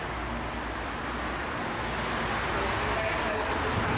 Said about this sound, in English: So I can now hear traffic.